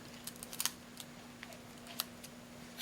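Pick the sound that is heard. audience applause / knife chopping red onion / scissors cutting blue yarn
scissors cutting blue yarn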